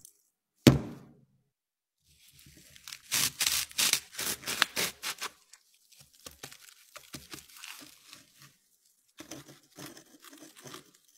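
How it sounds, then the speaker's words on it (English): A small glass ampoule of cesium metal packed in sand is cracked open: one sharp snap, then a burst of rapid crunching and scraping, followed by quieter intermittent rustles and clicks, close up. "A while ago, I bought this little tube from Russia, and I think it's finally time to crack it open."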